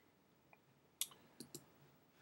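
Computer mouse clicking on a browse button: a few faint, sharp clicks close to the mic, a single one followed by a quick pair a moment later, in an otherwise quiet room.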